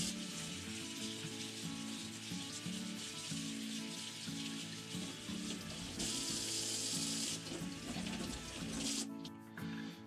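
Tap water rinses a K&N air filter from a Triumph Speed Triple motorcycle, a steady close rush of running water lasting the whole stretch, turning brighter and harsher partway through, with no talking.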